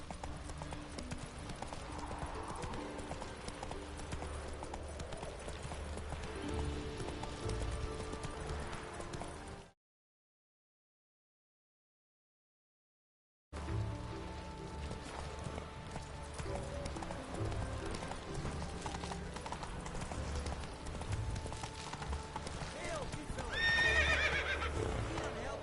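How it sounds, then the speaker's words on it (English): Roach the horse gallops with rapid, steady clip-clopping hooves and neighs in The Witcher 3 video game, loud and continuous apart from a few seconds of silence midway. "Whoa there, Roach."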